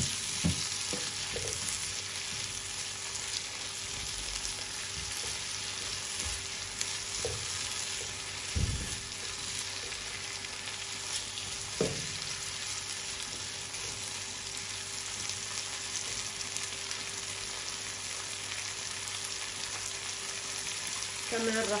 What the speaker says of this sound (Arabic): هلا بحط الفليفلة والبندورة